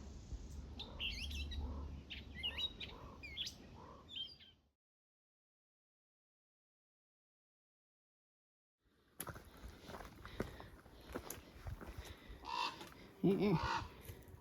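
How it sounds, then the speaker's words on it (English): Crows cawing repeatedly at a moderate distance on the Appalachian Trail, with other birds chirping, interrupted by a stretch of silence before the calls resume with footsteps. "Wonder what birds are making those noises."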